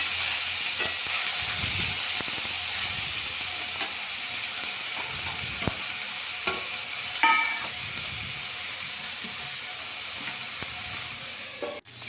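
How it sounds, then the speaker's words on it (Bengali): Fried rice stirred in a frying pan: a constant hiss of sizzling with scattered scrapes and clinks of a spatula against the pan, close and steady, with no talk. "এবার ভালো করে নাড়াচাড়া করে নিলাম।"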